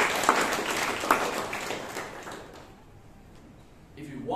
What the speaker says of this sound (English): a round of applause for the evaluator